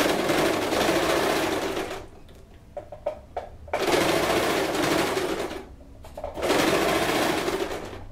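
An Elgin Genius domestic sewing machine stitching fabric in loud, close bursts of rapid mechanical whirring, broken by short pauses filled with small clicks as the work is adjusted.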